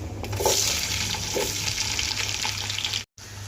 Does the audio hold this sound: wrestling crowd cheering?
no